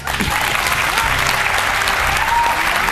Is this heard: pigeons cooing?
no